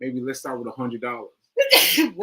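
A single sharp sneeze bursts out after a stretch of casual conversation, loud and close, with people talking before and right after it.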